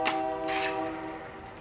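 A horn or whistle from a train on nearby tracks sounds briefly and carries some distance, its tone holding steady for under two seconds before fading.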